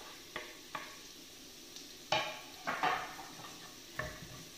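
Coconut pieces tipped into a frying pan of okra stir-fry with curry leaves and onions, giving a few soft scrapes and clatters of stirring with faint sizzling, fairly quiet and without talk.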